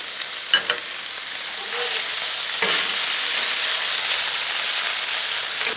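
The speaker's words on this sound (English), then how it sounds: "it won't take this steak long at all to cook. So I'm gonna go ahead and throw my mushrooms on too." Steak and mushrooms sizzling on a Blackstone griddle during a steak and shrimp hibachi cook: a steady, bright frying hiss that grows louder as food is added, with a few soft clinks of a spatula.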